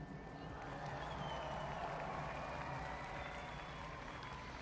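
A crowd at the 2023 Fortnite FNCS Global Championship claps and cheers in a steady, dense wash of applause that holds at an even level throughout, with some voices mixed in.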